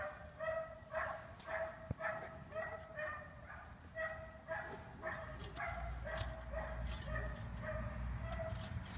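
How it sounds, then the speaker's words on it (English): A dog barks repeatedly nearby, with steady rhythmic barking throughout during an outdoor dig for old 1840s bottles in a privy. "Dang, that dog ain't happy over there."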